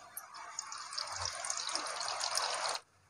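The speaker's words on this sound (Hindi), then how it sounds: "ये देखिए फ्रेंड, कितना सारा पानी निकल रहा है।" Water is squeezed through cloth from grated vegetables for veg momos and streams steadily into a container, a continuous close splashing trickle that lasts nearly three seconds and then stops abruptly.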